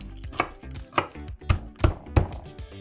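A knife mincing garlic on a cutting board: about seven crisp, separate knocks at an uneven chopping pace, close and clear with no talk.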